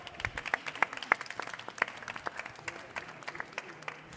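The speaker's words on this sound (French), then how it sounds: "on peut applaudir quand même." Scattered audience applause at a quiz show, a smattering of individual hand claps rather than a full ovation, moderately close and fairly quiet, continuing unevenly for several seconds.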